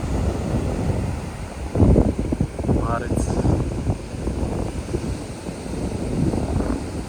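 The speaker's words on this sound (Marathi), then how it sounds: "हे बघा मस्तपैकी अशा लाटा वाव" Sea waves break on the Sindhudurg shore in a continuous broad roar, mixed with gusting wind buffeting the microphone, while someone speaks briefly over the surf.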